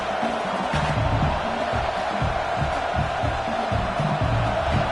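Football stadium crowd during an American football game: a loud, continuous roar of many voices with rolling low surges, sustained from start to finish.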